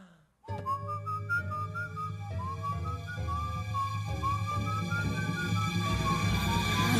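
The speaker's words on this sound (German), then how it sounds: "das Pfeifen geht mir auf die Nerven" Someone whistles a lilting tune alone, clear and close, the melody rising and falling in short phrases over a soft, steady background bed.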